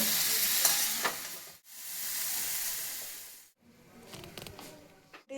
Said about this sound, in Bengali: মশলা কষানো হয়ে গেছে, সামান্য জল দিয়ে সবজিগুলো ভালোভাবে কষিয়ে নেব এবং মাছ মশলার সাথে ভালোভাবে কষিয়ে নেব।